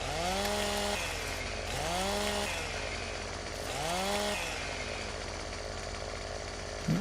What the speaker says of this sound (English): Wish I could run with my chainsaw.